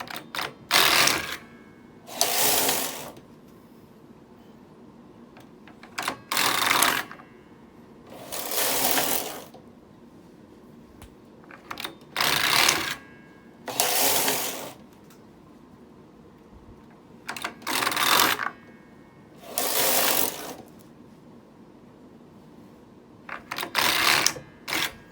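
The carriage of a Knitmaster 6500 knitting machine with a Ribmaster attachment is pushed across the needle bed knitting 1x1 rib. Each pass makes a rhythmic clattering swish, about ten passes in all, with short quiet gaps between them.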